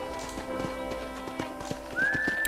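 A horse's hooves clip-clop in a steady rhythm on a ranch in the video game Red Dead Redemption, followed by a rising, drawn-out neigh near the end.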